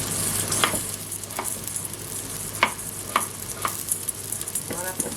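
Vegetables sizzle steadily while browning in a cooking pot for a vegetable stew, with a continuous frying hiss broken by several sharp scrapes and clinks of stirring.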